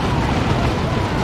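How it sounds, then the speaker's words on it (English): A grenade blast in the Warhammer 40k strategy game Dawn of War 2, heard as a short, loud, sustained roar of explosion with no pause, alone and without talk. "That's a really good grenade from IskNorthen."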